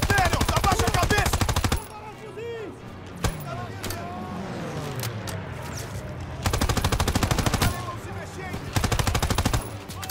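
Rapid automatic gunfire from a Call of Duty WW2 video game battle, loud repeated bursts separated by a quieter stretch of single shots and battle noise, with someone talking over it.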